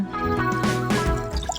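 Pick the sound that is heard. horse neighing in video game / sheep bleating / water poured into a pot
water poured into a pot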